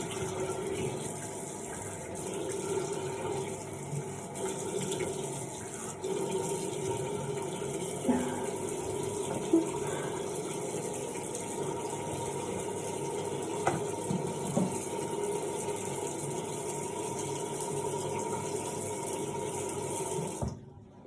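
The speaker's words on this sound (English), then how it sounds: "I'll show you a 5 to 10 second video of how I wash my face." Cold water runs steadily from a bathroom tap while a face is washed without soap, a continuous close rushing flow with faint splashes and hand sounds and no speech.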